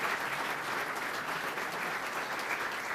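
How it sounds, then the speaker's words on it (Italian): Audience applause at a commemorative tribute event in Irpinia, Italy: dense, steady clapping from a seated crowd that holds an even level for the whole stretch, with no voices standing out. "E quindi facciamo un applauso per questa sua volontà"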